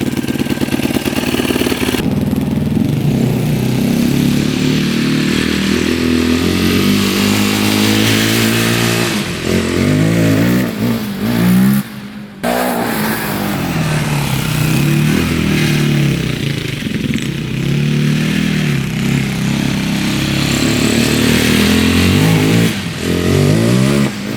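A Yamaha YFZ 450 quad runs close by, loud and continuous, its engine revving up and down in repeated swells with a brief dip around midway and no talk over it.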